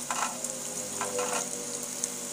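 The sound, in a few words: battered snakehead fish roe frying in hot oil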